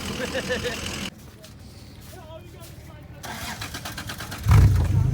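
A Toyota car engine strains and revs while climbing a hill with the clutch slipping, a steady mid-pitched drone building into a loud surge near the end as voices talk over it.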